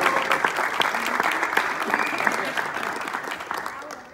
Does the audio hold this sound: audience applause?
yes